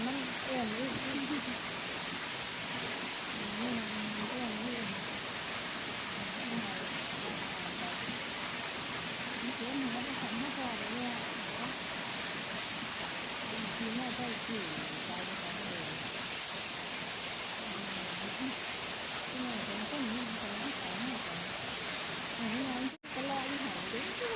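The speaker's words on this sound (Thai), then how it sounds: "น้ำตก" Steady broadband rush of water at Than Thip waterfall near Pha Mok Mi Wai in Nong Phok, Roi Et, continuous and fairly loud, with a voice talking faintly underneath.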